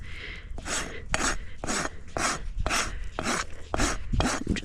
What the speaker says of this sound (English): I'm just rasping it down here.